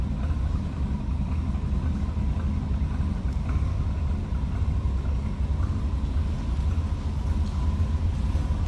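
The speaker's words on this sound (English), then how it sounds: "A little rumble coming out of that 305." A steady, deep Chevrolet 305 V8 engine in a 1982 Chevrolet C10 Scottsdale pickup idles continuously with a dense low-end drone and no talking.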